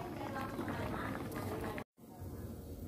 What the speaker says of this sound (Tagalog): Sa kumukulong tubig,